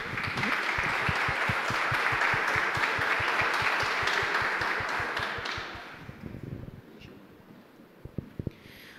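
Sustained audience applause fills a civic-cultural ceremony where an honorary doctorate in sport science is being conferred, dense clapping for about six seconds before fading to scattered claps and quiet room noise.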